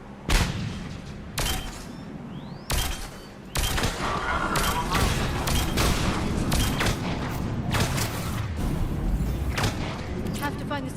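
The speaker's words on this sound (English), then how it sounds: "Pistol time." Loud, sharp pistol shots in the video game Mass Effect 3 during a fight against Reapers, irregular single cracks at first, then a busier stretch of combat noise with a voice speaking over it.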